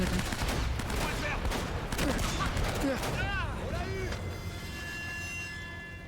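Pump-action shotgun blasts and scattered gunfire in Uncharted ring out at moderate volume, mixed with game effects as a French-speaking voice talks over the action.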